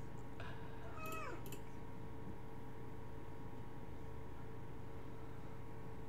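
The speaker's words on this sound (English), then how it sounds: "I'm sorry, it was my cat." A house cat meows a few times indoors, fairly clear, against a steady low room hum, during a web design tutorial.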